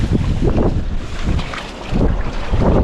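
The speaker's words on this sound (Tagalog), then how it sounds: "Hangin na naman." Wind buffets the microphone on a small fishing boat at sea, a loud continuous rumbling roar with gusty swells and no voices.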